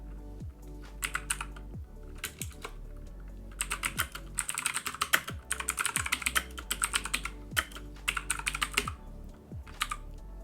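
Close-up typing on a computer keyboard, several bursts of rapid clicking keystrokes separated by short pauses, ending with a lone final tap.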